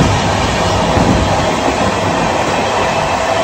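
A Howrah to Digha local train rolls along loud and close, its steady rumbling roar continuous throughout with no voices.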